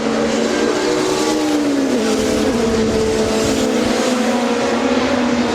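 Touring cars in a 2008 WTCC race at Brands Hatch scream down Pilgrim's Drop, a loud sustained engine drone with rising and falling pitch as the cars pass, with no talk over it.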